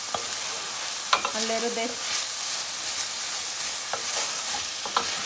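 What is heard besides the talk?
carrots frying with onion in a pan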